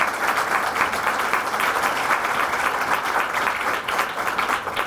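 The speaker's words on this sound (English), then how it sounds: "If you could give them a round of applause as they stand," An audience at a school district state-of-the-district address gives sustained applause, a dense even wash of clapping heard alone for about five seconds.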